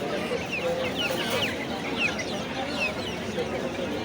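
Several chickens, including large hill-breed chickens, cluck and squawk in short bursts against a busy, noisy market background, fairly close, with faint voices mixed in.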